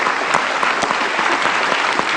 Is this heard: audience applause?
yes